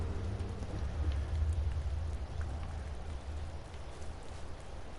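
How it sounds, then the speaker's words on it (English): Steady rain falls in the video game Sekiro, a continuous soft patter over a low rumble that holds at an even, moderate level throughout with no voices. "I like the sound of the rain."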